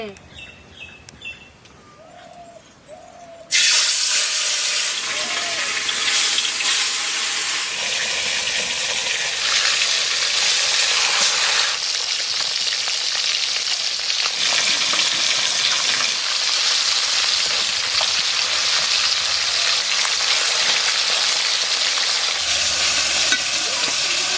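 Rohu fish sizzling in hot oil in a wok, a loud steady frying hiss that starts abruptly after a few quiet seconds with birdsong and continues without a break, with faint birds and a low voice now and then underneath.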